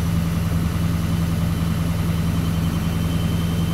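A Duramax diesel engine running at PTO high idle, a steady close rumble with a constant low hum and no change in pitch throughout.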